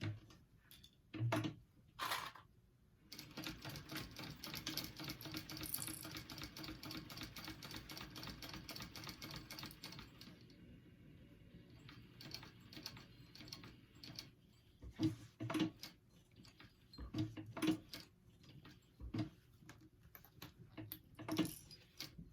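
A sewing machine top stitches a clutch wallet, running in quick mechanical rattling bursts between pauses, faint and close, with small clicks and handling noises between runs.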